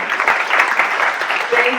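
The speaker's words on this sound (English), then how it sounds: "can you give a huge round of applause to our panelists today?" An audience at a panel discussion applauds steadily, a dense wash of clapping at close range.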